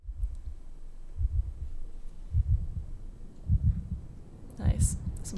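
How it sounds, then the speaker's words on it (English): Heartbeat-like low thumps in a song, a steady series of soft double pulses recurring about every second, moderately loud, with a brighter burst near the end. "Some kind of heartbeat."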